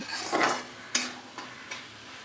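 Spice paste frying in oil in a pan for a traditional brinjal and foli fish curry, a soft steady sizzle broken by a few sharp spoon scrapes and taps as it is stirred, close and fairly quiet.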